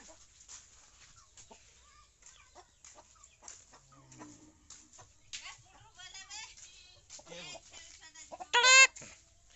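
Chickens cluck and squawk in a rural yard, with scattered close clucks building to a sharp loud squawk near the end, over faint background voices.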